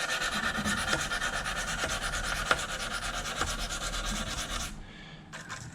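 A knife blade stroked across a whetstone, steady rhythmic scraping and rubbing strokes, close and fairly quiet, ending in a brief pause and a final light scrape.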